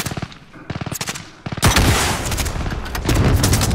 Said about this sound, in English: Keep fucking firing him